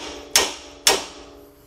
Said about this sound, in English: take your sledgehammer and just like what you did with the tie rod, go ahead and hit the spindle